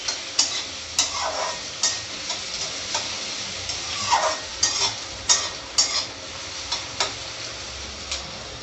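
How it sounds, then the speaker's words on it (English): Onions sauté in a pan for vermicelli upma, a soft continuous sizzle punctuated by regular sharp taps and scrapes of a spoon stirring against the pan. "then now I will add onions. I will saute them for a minute or 2."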